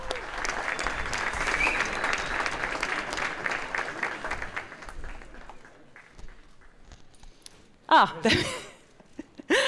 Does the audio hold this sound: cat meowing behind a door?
no